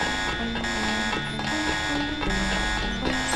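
An alarm sounds in the Deus Ex video game, a continuous electronic tone with a repeating pulsed pattern looping about once per second, steady and fairly loud with no voices over it.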